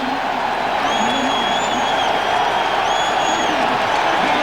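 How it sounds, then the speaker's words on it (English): Football stadium crowd at a 2001 NFL playoff game cheering a quarterback walking back onto the field, a dense, steady roar of many voices with scattered whistles rising over it. "And the crowd cheering Jim Miller's return."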